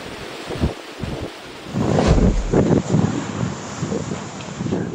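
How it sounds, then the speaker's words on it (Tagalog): Strong storm wind blasts and roars in gusts across an open setting in San Fernando, La Union, loud and close against the microphone with a rushing, whistling edge. "sumisipol ang malaipo-ipong lakas ng hangin"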